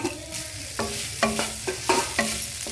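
Roasted paneer is stirred in a hot pan over high heat, with five or six quick, rhythmic scraping strokes over a continuous soft sizzle.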